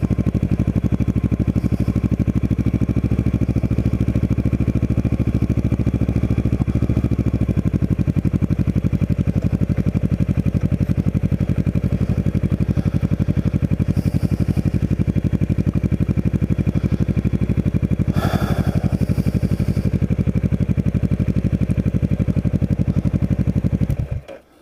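A motorcycle engine drones loud and close throughout while riding over rough terrain on a rural trip to a Civil War veterans' cemetery, with steady rattling and clatter from the bike before the sound cuts off at the end.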